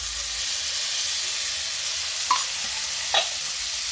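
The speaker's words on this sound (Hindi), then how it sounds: "अब इसमें देखिए खुशबू के लिए हम डालेंगे थोड़ा सा घी।" Ghee sizzles on slow gas in a pan for a sabudana and corn snack. A constant bright hiss runs throughout, with two short clinks of a spoon or spatula against the pan.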